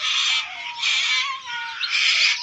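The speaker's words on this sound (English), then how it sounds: "it's a bit noisy because all the cockatoos are, it's about sundown" Cockatoos call at sundown near an aviary construction site, loud harsh squawks arriving in three overlapping waves with no talk.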